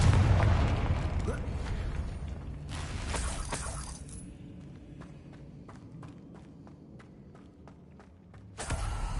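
A Confringo blasting spell goes off in Hogwarts Legacy with a sharp burst at the start, a second crackling blast shortly after, then faint ticking debris before another loud hit near the end.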